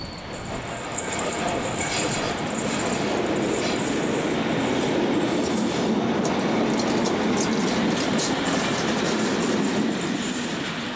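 A DB class 110 electric locomotive hauling a measuring train rolls past at Altenbeken station, a loud, sustained rumble with rhythmic wheel clatter and brief squeals, close and steady throughout.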